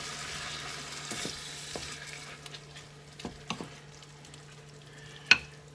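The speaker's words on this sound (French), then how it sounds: "Je mélange bien." Porcini mushrooms stirred in a frying pan over medium-low heat: a soft steady sizzle with a few scraping clicks and taps of the utensil against the pan, and one sharper clink near the end.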